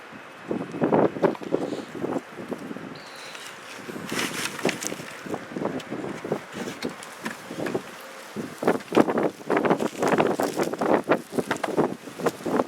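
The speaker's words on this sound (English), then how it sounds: "it's a very windy day today." Gusts of wind buffet the microphone in loud, rumbling bursts that come and go steadily throughout, with no talking.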